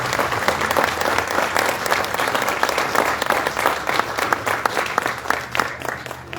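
An audience at an informational town assembly applauds volunteer university researchers, with dense, sustained clapping from many hands throughout, loud and close.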